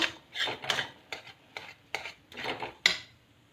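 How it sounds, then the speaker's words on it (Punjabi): A spoon stirs gram flour (besan) roasting in a pan for turnip and besan pinni, a series of close rhythmic scraping strokes with a sharp knock near the end. "ਬੇਸਣ ਪਾ ਕੇ ਹਿਲਾਉਂਦੇ ਰਹਾਂਗੇ ਇਹਨੂੰ ਚੰਗੀ ਤਰ੍ਹਾਂ"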